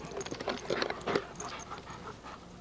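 A puppy pants in quick, rhythmic breaths close by, with brief scratchy movement sounds mixed in and no talking.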